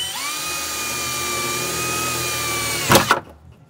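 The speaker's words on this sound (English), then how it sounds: "That's what happens when you don't let the drill bit cut and you push too hard." A power drill whines at a steady high pitch as the bit works into rusty sheet metal on a BMW E46 M3, then ends in a sudden loud bang and clatter as it catches.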